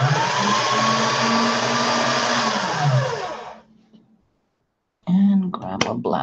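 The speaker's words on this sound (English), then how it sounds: "Let me get it through the pasta machine on the thickest setting this time." A pasta machine rolls a slab of clay through on its thickest setting, giving a steady, loud mechanical grinding whir that runs for several seconds, fades out, and gives way to a brief pause before talking begins.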